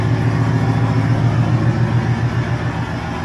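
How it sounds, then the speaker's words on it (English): A steady, loud drone of large ship's diesel engines fills the engine room, a low continuous rumble with an even throb and no voices. "The engine room, as if you can't hear it."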